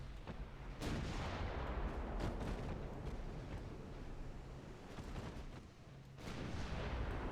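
Booming heavy naval gunfire from 11-inch guns firing armor-piercing shells in a warship video game, a dense rumbling barrage with repeated salvos that swells, dips briefly and returns loud.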